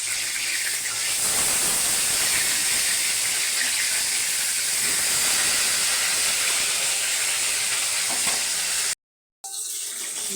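Rohu fish pieces frying in hot oil in a wok, a loud continuous hissing sizzle heard close up, broken by a brief silent gap near the end before resuming.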